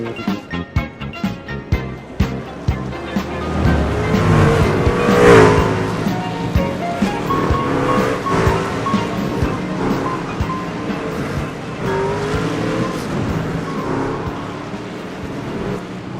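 Race trucks rolling off the grid at Daytona in the IORA Cup Series racing video game, a steady layered engine drone with tire and road noise, loud and continuous throughout with no talk.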